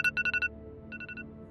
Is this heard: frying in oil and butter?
no